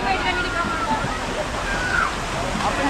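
A small waterfall at Kovai Kutralam pours in a steady, dense rush of splashing water, close and continuous, with voices murmuring faintly beneath.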